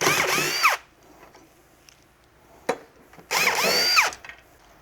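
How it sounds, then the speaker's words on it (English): Power tool, likely an impact driver with a 9/16 socket, removing rusty blades from a lawn mower: two loud, whirring bursts at start and end with a sharp clank between and quiet shop noise around them. "Looks like a 9/16 socket. I'll take these off."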